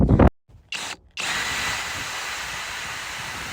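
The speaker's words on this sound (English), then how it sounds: "Got everything drilled out" A power drill whirs up briefly, stops twice, then runs steadily at high speed, close and loud, as it drills out metal rivets on a window fitting.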